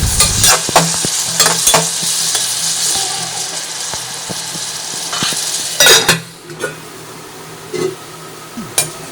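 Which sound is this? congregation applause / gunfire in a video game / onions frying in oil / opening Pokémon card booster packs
onions frying in oil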